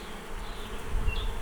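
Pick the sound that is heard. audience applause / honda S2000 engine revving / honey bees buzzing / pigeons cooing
honey bees buzzing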